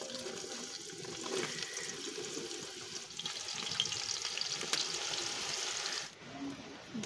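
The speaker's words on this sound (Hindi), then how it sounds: "ये तो घी हमारा माशाल्लाह से गर्म हो गया है, अब इसमें डालते हैं प्याज" Chopped onions frying in hot ghee in a large pot for chicken biryani, a steady dense sizzle throughout, close and fairly loud, with a brief dip near the end.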